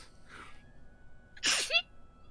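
A single sharp sneeze, loud and close, with a faint breathy intake just before it in a quiet room.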